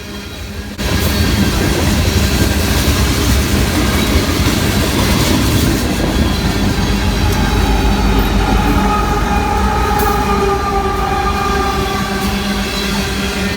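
A long Union Pacific freight train led by SD70AH diesel locomotives rumbles past nearby, steady and loud, with wheel clatter and a faint horn tone drifting over the roar.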